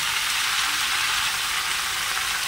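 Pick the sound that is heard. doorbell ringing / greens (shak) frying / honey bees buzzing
greens (shak) frying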